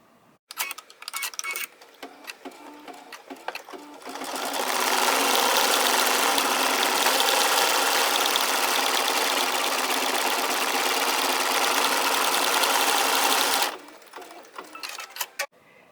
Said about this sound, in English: Change the thread to white, and we're stitching the white mug back rim satin stitch.